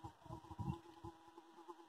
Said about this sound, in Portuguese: Tem bastante abelha.